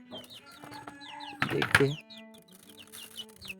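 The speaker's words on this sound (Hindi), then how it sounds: "यह हमें भाई का 2 मुर्गी है, पालने के लिए लेके आया था।" Two small chickens kept as pets clucking and peeping in a series of short chirpy calls, close by, with a person speaking briefly in the middle.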